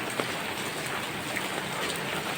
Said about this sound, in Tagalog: Kaya nakapayong tayo ngayon dahil ang ulan napakalakas.